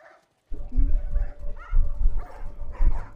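Dogs in The Last of Us Part 1 video game give a few short barks and yips in separate bursts, close by, with faint game ambience between them.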